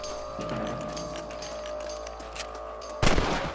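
Gunfire in the Red Dead Redemption video game, a dense rattle of shots and rumble from a rifle fight, ending in a louder sharp blast near the close, no voices.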